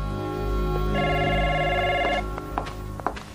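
An old telephone rings loudly with one sustained electric bell ring, followed by a few clunks and knocks as the ringing stops.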